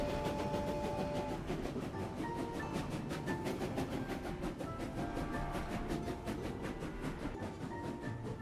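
Continuous rumble and rhythmic clatter of a train ride in the video game Clair Obscur: Expedition 33, steady and loud throughout with regular rail clicks and no talking.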